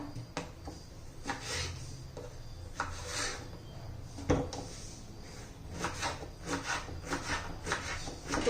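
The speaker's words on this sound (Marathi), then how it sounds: "अशा बारीक बारीक तुकडे करून घ्यायचे आपल्याला" A knife chops sponge gourd into small pieces on a board, giving a run of sharp, close taps and scraping cuts in irregular bursts, with no talking.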